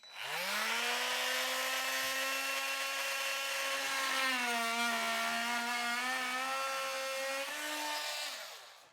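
An old Milwaukee M12 oscillating multi tool plunge cuts into wood with a loud, sustained buzzing whine. The pitch dips slightly partway through the cut and winds down at the end.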